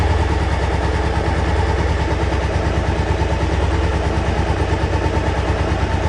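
Honda CB600F motorcycle engine running on choke at a steady idle after starting, a continuous close, loud throbbing rumble with a fast even pulse and no talk over it.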